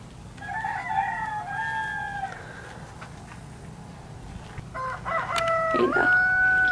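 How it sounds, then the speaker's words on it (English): Two roosters crow one after another in Joshua Tree, California, the first mid-distance, the second louder and closer, over a faint outdoor background. "And there's a house right over here that has roosters."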